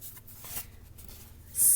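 Pen or marker writing a word on a board: brief, faint scratchy strokes close by, ending with a louder squeak at the finish, with no talk over it.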